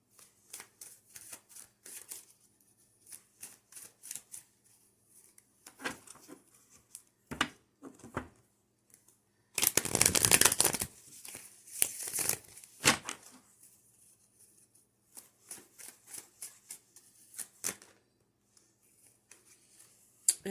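Tarot cards are shuffled in quick riffling bursts, a few short flicks scattered around one louder, longer shuffle in the middle, close and quiet with no talk.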